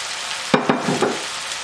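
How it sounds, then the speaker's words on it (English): Spoon stirring food in a cooking pot while making bol renverse, an upside-down bowl dish: a few short scraping strokes rise above a steady background hiss, close and fairly loud, with no voices. "now we're gonna give this a stir"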